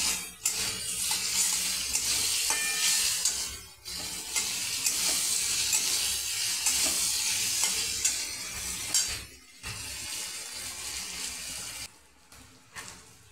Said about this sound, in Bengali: পটল যে ভেজে নিয়েছি, ওই তেলের মধ্যে এই দানাগুলো দিয়ে দেবো। দানা দিয়ে ভালো করে নাড়াচাড়া করে নেব।